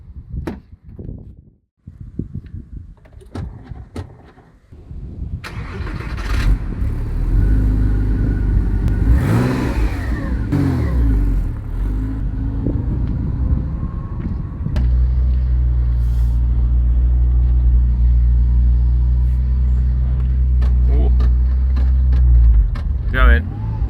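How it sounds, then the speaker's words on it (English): A long-neglected Porsche Boxster, unused for around ten years, is started with a few clunks and cranks, then its engine settles into a rough rumbling idle and revs as it pulls away, with someone talking at times over the engine. "This will be the first time this Porsche is probably driven in around 10 years."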